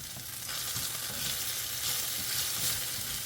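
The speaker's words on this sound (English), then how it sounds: "I'm going to go ahead and get these kind of like flipped." Pieces of butter garlic chicken fry in a pan as they are turned, a soft steady sizzle with light crackling and gentle shifting thumps, fairly quiet and close, with no talking.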